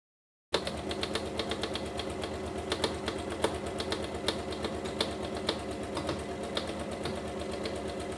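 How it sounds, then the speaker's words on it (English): An overlocker sewing machine starts abruptly and then runs steadily, a fast mechanical whirring chatter with rapid stitching ticks, close and continuous for several seconds. "I'm just going to run it through the overlocker"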